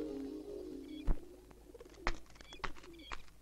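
A pigeon gives soft, low cooing, mixed with several sharp knocks and clicks in a quiet indoor setting.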